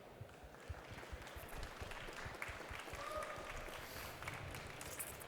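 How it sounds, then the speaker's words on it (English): Steady applause from a conference audience welcoming a speaker onto the stage at a morning tech talk, a dense, even wash of clapping that holds at moderate level throughout without pause. "Please welcome on stage with an early morning energized round of applause"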